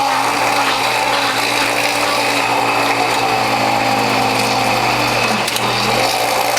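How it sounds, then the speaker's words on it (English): A juicer motor grinds carrots fed through its front tube, a loud continuous whirring and crunching drone with a brief catch near the end, no voices. "Alright, feeding carrots in from the front."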